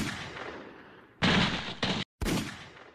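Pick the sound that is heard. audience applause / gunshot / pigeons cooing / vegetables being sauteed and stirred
gunshot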